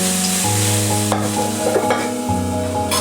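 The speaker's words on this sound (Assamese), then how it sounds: "নেখাবখিনি ভাজি লৈছোঁ" Nephaphu greens fry in a pan with a steady sizzle and faint stirring, heard under prominent background music with sustained tones that dominate the mix.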